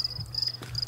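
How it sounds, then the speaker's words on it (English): Crickets chirp steadily in a night scene of the video game The Forest, a thin high repeating trill close by over a low ambient hum, with no talk. "Crickets. Ah, they're here on the plane."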